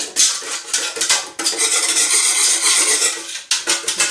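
A spoon scrapes and stirs homemade plant-based glue thickening as it heats in a pot, loud close strokes in bursts with brief pauses, a light bubbling sizzle beneath and no talking.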